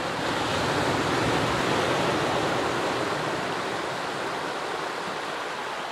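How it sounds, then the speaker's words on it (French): Sea waves wash continuously at the narrow mouth of the Saint-Paul lagoon, a broad steady roar of surf heard close, with no voices over it. "les vagues sont gentilles ou nettes"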